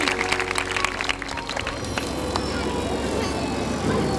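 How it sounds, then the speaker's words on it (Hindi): Congregation applause at a church chapel service, a dense crowd of clapping hands sustained through the whole stretch, fairly loud and close with no speech over it. "जोरदार तालियां बजाएं."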